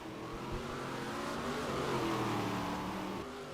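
Race car engines in a racing game roar continuously, rising in pitch as the cars accelerate out of a corner, loud and steady with no voices.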